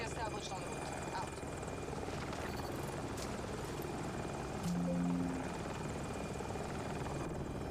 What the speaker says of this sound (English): how to track your head movement and move around in a helicopter and a airplane